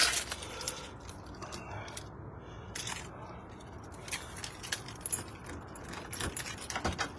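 Keys jangle close by in a steady run of bright metallic clinks and rattles, picked up or handled from a hook during an evening walk, with no talk over them.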